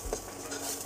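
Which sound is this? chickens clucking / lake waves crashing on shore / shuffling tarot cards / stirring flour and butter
stirring flour and butter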